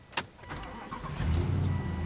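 A V8 car engine with 225,000 miles cranks briefly, catches, and settles into a low, steady rumble close by.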